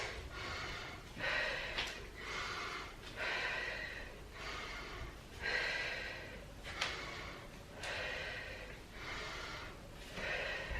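Deep, steady breathing during a legs and core workout. Audible inhales and exhales repeat in a regular rhythm, close and fairly soft, with no talking.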